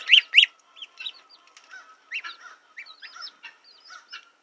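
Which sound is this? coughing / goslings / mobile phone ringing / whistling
goslings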